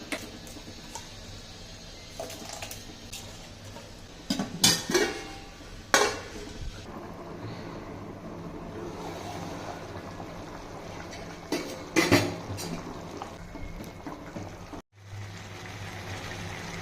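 Soaked rice is stirred into boiling water in a pot for vegetable pulao, with a low bubbling bed under intermittent scraping, clinks of a spoon against metal and a few louder knocks.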